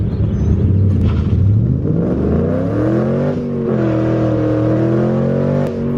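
A cammed Ford Mustang GT V8 launches hard and pulls through its gears, a loud, close engine roar whose pitch climbs, drops at each shift and climbs again.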